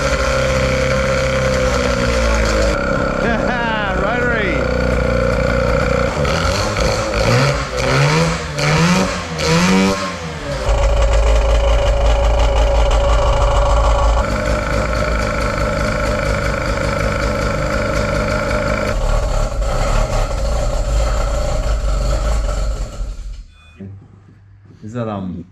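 A rotary engine swapped into a Holden Commodore VN runs loud and rough with steady droning and several revs, then cuts off near the end, with voices talking over it.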